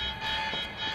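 In Quantum Break, a building alarm sounds as a steady, tonal electronic drone with several stacked pitches, loud and continuous with no pauses.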